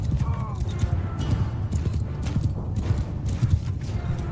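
Horses gallop in a Mount & Blade 2 Bannerlord battle, a loud, steady drumming of many hooves filling the scene, with a brief whinny early on and voices talking over the thundering cavalry.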